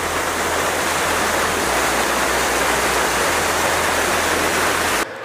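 Powerful water rushes steadily and loudly at a water intake in Crimea, a dense continuous roar with a low throb underneath that stops abruptly at the end.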